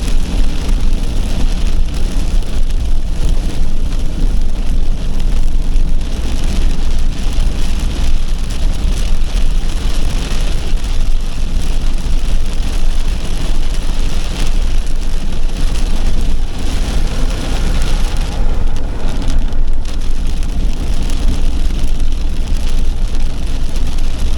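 Torrential rain pours down in a dense, unbroken roar, heard steadily and loudly throughout, with no voices.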